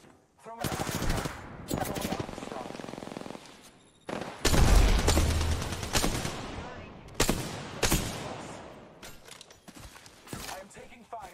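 Automatic weapon fire in the video game Apex Legends, loud repeated bursts of rapid shots with pauses between them, a heavy boom midway, and a voice speaking over the action.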